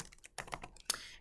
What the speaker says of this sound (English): And you can type here.